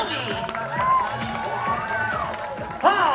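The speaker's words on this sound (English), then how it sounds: "please give one more round of applause for Kenobi" Crowd applause and cheering for a dancing sea lion show at a Six Flags park in New Jersey, a lively mix of clapping, whoops and children's shouts, with a louder cheer swelling near the end.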